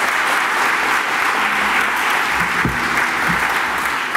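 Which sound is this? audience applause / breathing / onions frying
audience applause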